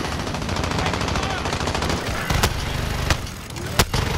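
Rapid automatic gunfire from the video game Call of Duty: Modern Warfare, a dense continuous burst of shots with a few louder sharp cracks standing out near the end.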